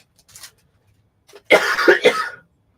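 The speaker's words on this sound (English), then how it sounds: "Man, this cough is sounding great." A faint short throat sound, a pause, then a burst of two or three harsh, rough coughs close to the listener.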